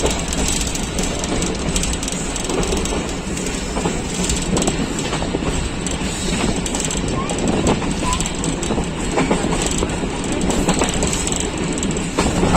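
A Pakistan Railways Thal Express passenger train travels from Rawalpindi to Multan, heard as a steady, loud rumble of wheels and carriages with rhythmic clickety-clack and faint squeals throughout, close and continuous.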